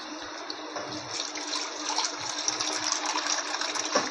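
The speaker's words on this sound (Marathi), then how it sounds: "त्याच्यात मी घालते पाणी." Water poured into a pot of vegetable curry with onion, eggplant and potato, a steady gushing pour heard close and continuous with faint clatter of the pot.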